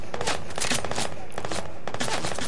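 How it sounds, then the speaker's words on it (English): Dense, continuous gunfire in a shooter video game with sniper rifles in use, with overlapping rapid shots and loud cracking bursts that keep a steady, chaotic barrage without pause. "Cause he was shooting at me."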